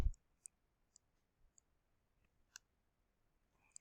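Several faint, sharp computer mouse clicks spaced irregularly in a quiet room, with a soft thump at the start.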